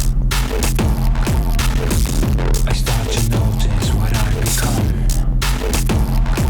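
A deep, throbbing bass line pulses steadily in a music track, low notes repeating in rhythm with a hazy, humming texture above.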